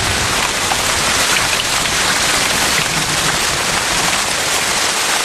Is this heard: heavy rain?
yes